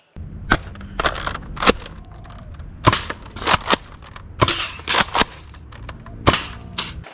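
Nerf Mega Magnus blaster firing roughly a dozen sharp, loud pops in an uneven rhythm, each a crisp snap with a short tail, heard up close with no talking.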